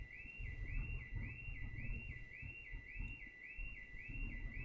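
A restaurant alarm from The Bear rings steadily in a repeating warbling tone, about eight even cycles over a low rumble of room noise, fairly faint and with no one talking.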